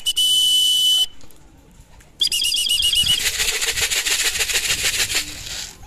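A racing pigeon arrives home at the loft during a hard derby race in San Fernando, La Union. A steady electronic tone sounds first, then a pause, then a sustained run of rapid, close wing-flapping bursts with no talk.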